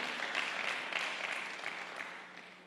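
A church congregation claps together in a brief, fairly distant burst of applause that slowly fades.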